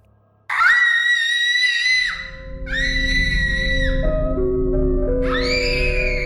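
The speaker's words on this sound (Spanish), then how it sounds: "un grito de Heidi resonó rompiendo el silencio de la noche" A girl screams in the night, three long, piercing, high-pitched shrieks one after another. The second is shorter and a deeper sustained drone sits beneath the last two, loud and close with nobody speaking.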